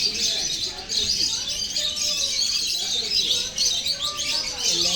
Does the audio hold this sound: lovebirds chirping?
yes